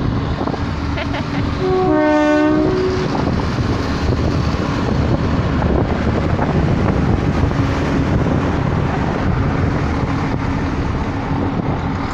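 A train horn blares in a stepped chord for about a second over constant loud rumble and wind buffeting as a train rolls by nearby.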